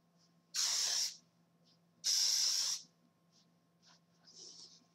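Hairspray hisses from an aerosol can onto hair being set in no-heat spiral curls, two long close bursts of roughly half a second each, followed by shorter faint puffs, with no talking.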